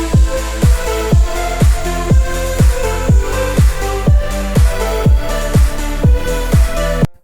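A thumping electronic dance drop: punchy kick on a steady beat under bright, repeating synth plucks and layered pads, loud and dense throughout.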